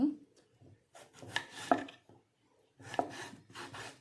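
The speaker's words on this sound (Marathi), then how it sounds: "इथे मी घेतलेला आहे एक कांदा आणि एक टॅमॅटो तर इथे आपल्याला हे अगदी बारीक कट करून घ्यायचे" Knife finely chopping onion and tomato on a board, with short bursts of quick close cutting strokes separated by pauses.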